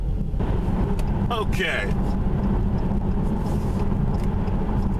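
Dodge Challenger R/T cruising on a highway at about 70 mph in fifth gear, a steady low road and engine rumble filling the cabin throughout while a person briefly speaks.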